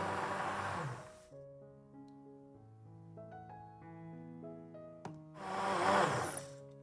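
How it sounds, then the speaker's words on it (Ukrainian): Two short bursts of an immersion blender's rough whirring as it purees peppers, one at the start and one near the end, with soft tonal music playing in between. "Також подрібнемо занурювальним блендером м'якоть перцю."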